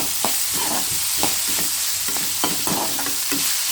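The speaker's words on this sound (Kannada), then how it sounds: "ಈ ಎಣ್ಣೆ ಒಳಗೆ ಈ ಒಗ್ಗರಣೆ ಒಳಗೆ ಚೆನ್ನಾಗಿ ಈ ಥರ ಅರಳಿಕೊಂಡು ಬೇಯುತ್ತೆ" Spices crackle and sizzle loudly in hot oil for a tempering, with sharp pops every half second or so over a constant hiss.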